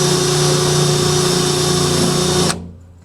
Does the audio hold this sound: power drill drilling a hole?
yes